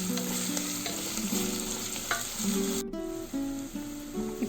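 Six green chillies frying in a pan for khichdi, a steady sizzle with stirring clinks and scrapes of a utensil, close and moderately loud, with no talking.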